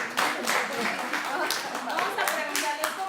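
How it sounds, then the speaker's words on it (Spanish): Clapping from a small group in a children's church family session, a brief burst of hand claps, fairly close and steady over background voices. "Un aplauso para ellos."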